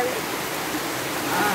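Muddy rainwater rushes down in a steady cascade during heavy rain in a village, a constant broadband roar that swells slightly near the end, with no voices over it.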